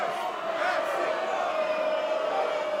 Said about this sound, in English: Crowd shouting for rock and roll.